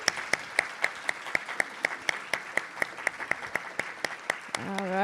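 Applause at a PTK induction ceremony as Serena K. Perales Soto is called up, with clear, regular rhythmic claps from a few nearby hands over a softer crowd wash, and a voice briefly at the end.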